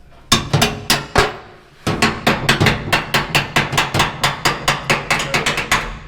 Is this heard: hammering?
yes